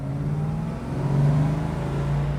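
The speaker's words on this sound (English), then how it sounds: "You see the front end of this car stand up and dance when I hit that throttle." A 1971 Chevrolet Camaro V8 revs hard under throttle, a loud, close, steady engine roar that swells partway through with no talking over it.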